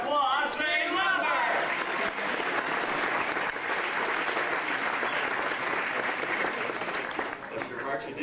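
An audience at a Universal Studios horror and makeup show breaks into sustained, dense applause that fills the space for several seconds, with a loud voice over the start.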